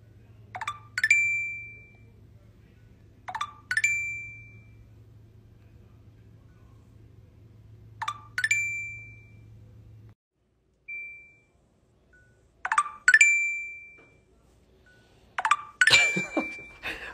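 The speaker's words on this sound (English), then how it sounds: "Oh, I know what it is. It's the Tinder sound." Tinder app notification chime from a phone, repeated five or six times in short bright bursts a few seconds apart, with a low steady hum under the first half and a rustle near the end.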